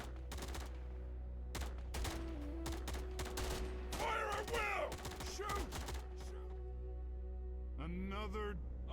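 Gunfire in a war strategy game, bursts of rapid shots and scattered single cracks over a steady low hum, with brief voice-like game sounds mixed in.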